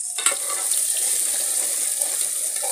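Potatoes fry in a hot pan while methi bhaji cooks, giving a steady, close hiss of sizzling oil with a brief clatter near the start and faint stirring throughout.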